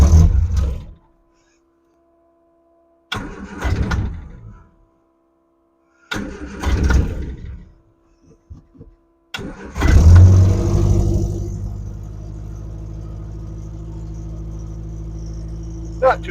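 A 1970 Triumph TR6 engine on full choke cranks in three short bursts with pauses, then catches and fires up on the fourth try, settling into a steady loud idle; someone speaks briefly between attempts.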